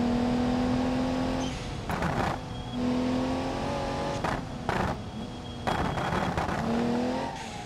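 A race car lapping the Nordschleife in the BeamNG video game roars close and loud, its engine holding high revs with sharp drops and rises at several gear shifts.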